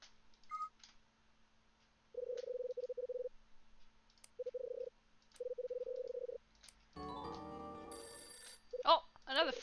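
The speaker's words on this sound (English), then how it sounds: "Oh, another phone call." A telephone rings in short electronic bursts, three separated trills in a steady pattern, followed by clattering handset pickup noises and brief tones.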